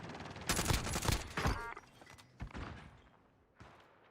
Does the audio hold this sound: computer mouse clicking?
no